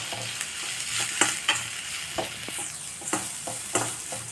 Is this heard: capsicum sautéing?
yes